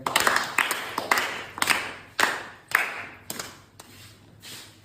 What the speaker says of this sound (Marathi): पुन्हा एकदा गीतासाठी टाळ्या द्या